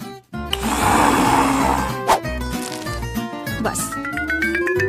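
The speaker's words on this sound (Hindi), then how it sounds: "इन सबको बस एक ब्लेंडर में अच्छी तरह से फेंटने की जरूरत है" A blender whirs loudly and steadily, its motor pitch shifting as it churns a thick avocado sauce, with a brief clunk midway.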